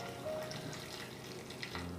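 Boiling water poured from a pot onto washed, drained rice in a cooking pot, a steady splashing pour that runs for about two seconds with no talk.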